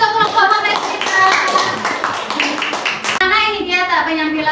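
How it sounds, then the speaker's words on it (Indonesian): Children clap together for a classroom group coming forward, a dense burst of many small hands close by, with a short pause and then more clapping and chatter. "Silakan tepuk tangan untuk kelompok magnet silinder."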